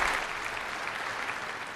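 Steady, dense applause from a large gathering as a joint Catholic–Lutheran statement is signed, a continuous wash of many hands clapping with no voices over it.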